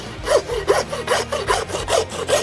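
Rhythmic back-and-forth sawing through bone on a wagyu beef forerib, about eight even strokes with a gritty rasping tone, close and loud, no speech.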